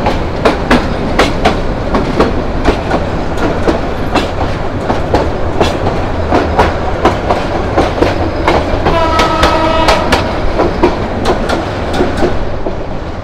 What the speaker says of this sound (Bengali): মাত্র 50 মিনিট লেট নিয়ে আমরা কমলাপুর রেলওয়ে স্টেশন থেকে বের হয়ে এলাম